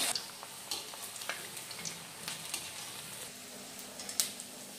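Gobi manchurian balls of battered cauliflower are dropped into hot oil and fried on a low flame, giving a steady soft sizzle broken by a few louder crackles and pops, with no talking.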